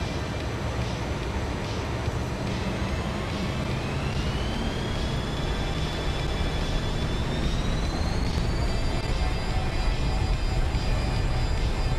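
Fokker F28 jet engines spooling up to takeoff power in Microsoft Flight Simulator 2024, a loud, continuous roar with a whine that climbs steadily in pitch and then holds high and even.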